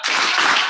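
An audience at a public lecture claps in unison, a short, loud burst of hands striking together close by, with no talk over it.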